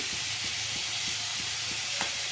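Curry leaves sizzle in hot oil in a pan for horseradish gojju, a steady frying hiss with soft, regular ticks roughly every third of a second, close by and alone.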